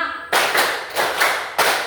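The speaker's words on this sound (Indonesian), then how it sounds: "Tepuk 1, tepuk 2, tepuk 3, tepuk 4, tepuk 5" A school class claps a counted rhythm in unison, three sharp ensemble bursts spaced roughly evenly apart, each decaying quickly, loud and close.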